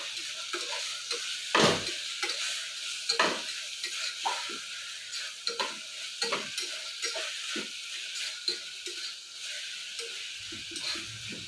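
Ginger with garlic and sprouted fenugreek fries in a pan, a soft steady sizzle punctuated by repeated scraping and clinking strokes of a spatula stirring against the metal, close and without talk.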